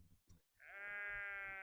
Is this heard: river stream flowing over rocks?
no